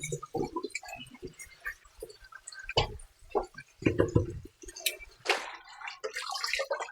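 Callaloo leaves being rinsed in a bowl of water for a Jamaican steamed callaloo dish, with irregular splashes, drips and sloshing bursts, some louder swishes midway and near the end.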